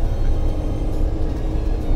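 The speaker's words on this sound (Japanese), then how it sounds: "エンジンっていうかね、このアクセル踏み込んでも、" An older Honda N-BOX kei car's engine strains under hard acceleration, heard from inside as a loud, low, steady droning rumble with no talking.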